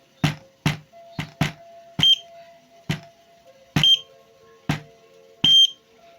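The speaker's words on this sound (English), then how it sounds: "can hear the sound of the buzzer" Sharp electronic beeps from a piezo buzzer on an Arduino project in an irregular series, about a dozen short clicks and chirps, some with a higher ringing tone, close and fairly loud with no talk.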